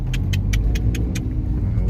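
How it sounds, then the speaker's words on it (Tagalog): Road traffic with cars passing on a busy street in Malolos, a steady low engine rumble close by, with a series of light rhythmic clicks over it. "Yan o, kita mo traffic na rito."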